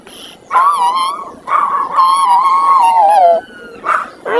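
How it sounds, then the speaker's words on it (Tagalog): A dog howls in long, wavering, whining tones, several drawn-out cries in a row with short breaks, fairly close and loud, with no barking. "may sumabay na naman na aso sa voice natin"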